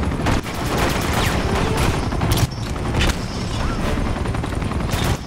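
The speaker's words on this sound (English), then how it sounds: "Keep shooting him." Dense, continuous gunfire from shooting at an enemy in Uncharted 2, with rapid overlapping shots and mechanical clatter filling the whole stretch at a steady, loud level, no talk.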